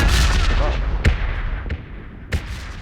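Loud, dense gunfire and blasts roar continuously in PUBG Mobile, with a few sharp explosive bangs standing out in the din.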